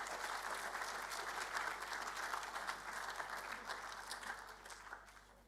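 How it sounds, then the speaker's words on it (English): An audience at a school careers evening applauds the exhibitors, producing a steady wash of many hands clapping. The applause sounds faint and distant and tapers off slightly toward the end. "give a big round of applause to our exhibitors up the back"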